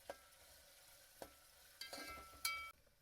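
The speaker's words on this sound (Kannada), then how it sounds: "ಉಳ್ಳಾಗಡ್ಡಿ ಚೆಂದಾಗ ಫ್ರೈ ಮಾಡಬೇಕು" Onions fry in hot oil in a pan for pulao, with a soft, steady sizzle and several sharp scraping stirs of a spoon against the pan, close and quiet with no talk.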